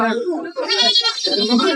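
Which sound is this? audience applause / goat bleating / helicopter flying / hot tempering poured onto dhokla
goat bleating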